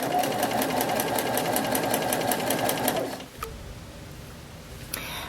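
A sewing machine fitted with an edgestitch foot runs steadily while understitching fabric, giving a fast, even mechanical whir with rhythmic stitching clicks for about three seconds before it stops, followed by faint handling noise.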